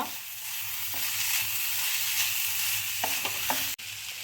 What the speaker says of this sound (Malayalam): ഈ ചേരുവയെല്ലാം കൂടി ചേർത്ത് നന്നായി ഇളക്കുക.